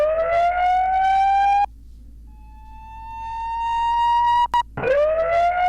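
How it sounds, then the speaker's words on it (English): A synthesized siren sits in a music production beat, rising wailing tones that sweep up, hold, cut off and return over a steady electronic backdrop. "we have this siren in the back"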